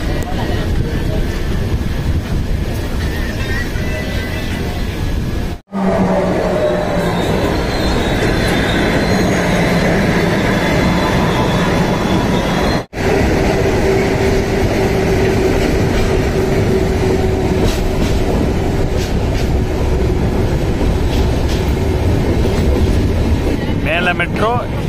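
A Kolkata Metro train runs through Dakshineswar station with a loud, continuous rumble, wheel and rail noise and faint squeals, close by and sustained, with two brief breaks in the sound.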